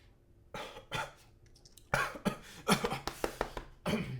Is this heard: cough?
yes